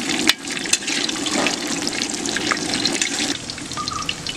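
Cooked beef dry frying in a pan, a steady close sizzle with light stirring and scraping, a couple of sharp clinks near the start, and no voices.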